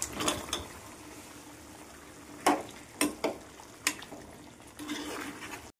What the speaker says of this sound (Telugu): ఇప్పుడు ఉడకబెట్టుకున్న చికెన్ వేసుకుందాం.